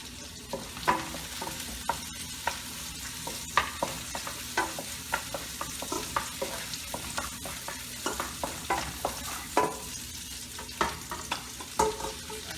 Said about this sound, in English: Then I'm gonna put the sliced collard green.